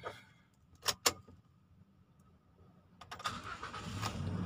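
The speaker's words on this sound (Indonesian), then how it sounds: "Kita nyalakan dulu mesinnya." Toyota Innova Reborn automatic car: two sharp clicks of the key, a pause, then the engine cranks and catches, settling into a rising steady idle, quiet and close.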